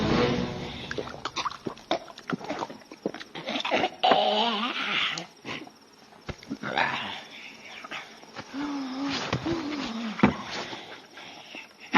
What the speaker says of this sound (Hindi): चुप कर कुत्ते